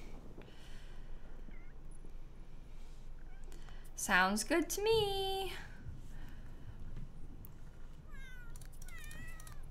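A cat in The Sims meows around the middle, then chirps faintly near the end, with a person talking over the game sounds.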